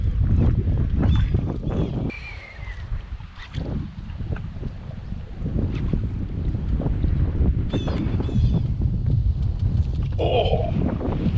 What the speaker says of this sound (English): That wind got cold.